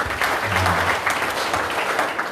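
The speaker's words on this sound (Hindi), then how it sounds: "चलो तालियों से धन्यवाद दें।" A Ganesh Utsav gathering at a Hindu temple in Savusavu breaks into dense, steady applause, and a low voice murmurs briefly beneath the clapping.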